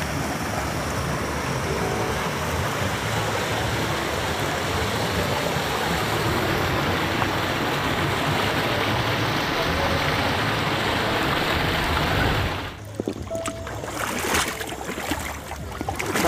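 Mountain stream at Krông Kmar in Krông Bông, Đắk Lắk, where many people are bathing, rushes in a loud, steady broadband wash that holds for most of the clip, then drops away abruptly near the end as nearer, uneven sounds take over.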